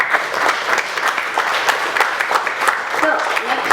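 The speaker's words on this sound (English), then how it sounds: "Are they not deserving a big round of applause?" Steady applause from a crowd, dense clapping sustained throughout at an even level.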